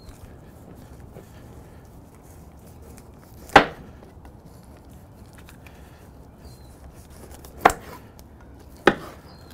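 A knife cuts through a 200-day dry aged ribeye on a board, giving three sharp, isolated thunks spaced several seconds apart against a quiet room.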